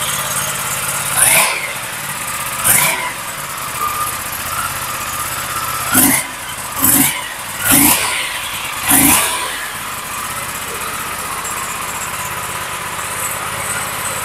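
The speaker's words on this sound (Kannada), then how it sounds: "ಇದರ ಎಕ್ಸಾಸ್ಟ್ ಕೇಳಿಸ್ಕೊಳ್ಳೋಣ ಒಂದ್ಸಲ. ಆ 270 ಡಿಗ್ರಿ ಕ್ರ್ಯಾಂಕ್ ಇನ್ ಸೌಂಡೇ ಬೇರೆ." A superbike with a stock exhaust and a 270-degree crank engine idles with a steady drone, then revs in a series of short, sharp blips, about six in all, heard close up.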